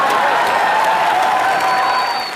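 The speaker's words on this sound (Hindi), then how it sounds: "ओह जोरदार तालियां अकबर अंबर सर के लिए।" Loud, dense applause from a studio audience on a comedy talk show fills the whole stretch without a break, with crowd noise and cheering layered over it.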